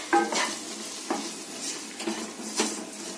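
A spoon stirs masala through bitter gourd curry in a pan, giving a few soft scraping strokes with faint sizzling between them, close by and with no one speaking.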